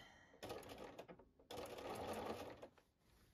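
Bernina 440 sewing machine quilting spider-web designs, running in two close, steady bursts with a short pause between them, fairly quiet overall.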